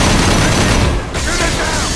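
Dense, continuous gunfire from a firefight in the video game Mass Effect 2 as a fuel tank is targeted, loud throughout with a brief dip near the middle, mixed with game voices.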